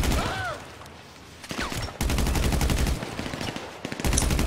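Automatic weapons fire in GTA Online, starting faintly with scattered shots, then breaking into a loud, rapid, steady burst of machine-gun rounds that keeps rattling to the end.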